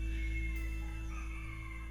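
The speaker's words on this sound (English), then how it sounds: "cockle-doodle-doo, and birds and nature" A rooster crows in a temple compound at Bang Bao on Koh Chang, a fairly faint call over a constant low hum, with other birds faintly around.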